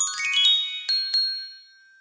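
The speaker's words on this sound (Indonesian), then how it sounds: "Jika kau membutuhkan bantuan, bunyikan lonceng ini ya, seperti ini." A small hand bell is shaken, giving bright tinkling rings in a quick cluster, then two separate strikes that fade into a clear, lingering ring.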